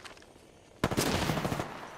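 A sudden burst of rapid gunfire from the Apex Legends battle royale game follows a quiet hiss and rattles loudly for about a second before trailing off.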